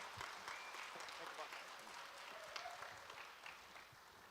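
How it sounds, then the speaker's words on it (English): Quiet, distant applause from a crowd at a tribal public health conference, a steady wash of clapping with murmuring voices mixed in, held at a low, even level throughout. "Big round of applause for Mr."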